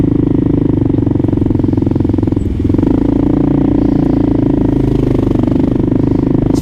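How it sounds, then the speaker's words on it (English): Kawasaki KLR 650 motorcycle engine at highway cruising speed, a loud steady drone close to the rider, dipping briefly before settling back into a continuous hum as the throttle is eased. "that means the bike's slowing down as soon as I lay off the throttle"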